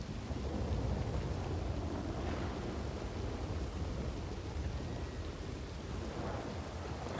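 Heavy rain pours steadily in a thunderstorm within the WildRP role-play game, with a continuous dense hiss and low thunder rumbling underneath throughout.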